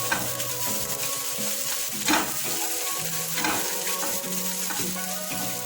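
Egg and babori greens fry in a pan with a steady, close sizzle, punctuated by a few brief stirring scrapes; no voices.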